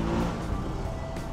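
Road traffic near the Monumento area, with cars passing close by in a steady, loud engine and tyre rumble that fills the whole moment without pause.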